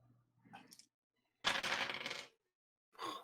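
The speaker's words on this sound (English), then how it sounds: "That's a lot of dice." A big handful of dice rattles and tumbles across a table at a tabletop game session, with a long clattering roll and a few smaller scattered clicks around it, fairly close and alone.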